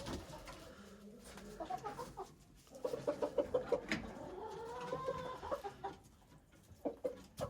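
Black leghorn chickens cluck and murmur in short bursts while being fed bugs outdoors in frigid winter, a few nearby birds calling softly and intermittently.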